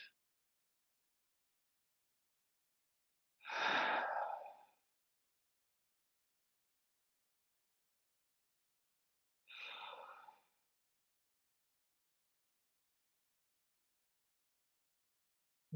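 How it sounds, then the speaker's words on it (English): Two slow, deep breaths during a tantra-hatha yoga class, each a soft breathy exhale a few seconds apart, separated by near silence, close and quiet. "Take a couple of deep breaths in and out."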